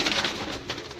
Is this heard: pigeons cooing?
yes